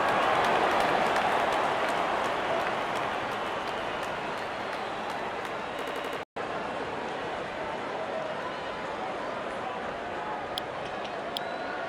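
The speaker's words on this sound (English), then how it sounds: "Out come the openers, cheered by a good crowd in." Crowd cheering and applause from the Real Cricket video game as the openers walk out for a multiplayer match, a steady dense wash of clapping and crowd noise that runs on without a break, with one momentary cut partway through.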